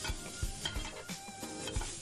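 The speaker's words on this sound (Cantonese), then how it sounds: "首先爆香啲洋葱" Onions hit hot oil in a wok, a steady sizzle from the frying with the occasional scrape and clack of a spatula against the pan, close and moderately loud, with no voices.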